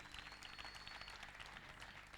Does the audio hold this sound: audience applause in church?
yes